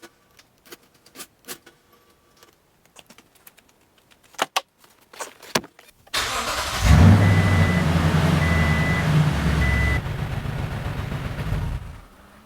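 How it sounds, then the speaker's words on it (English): A 2021 second-generation Toyota Tundra pickup is started after an oil change. A few scattered clicks and key jingles come first, then the engine turns over and settles into a steady, close, loud idle rumble. "I started my truck up"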